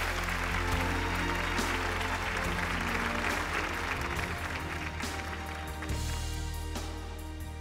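A studio audience on the Chongqing TV talk show 谢谢你来了 applauds warmly, with dense, sustained clapping that holds at an even level for several seconds over a low, steady background tone.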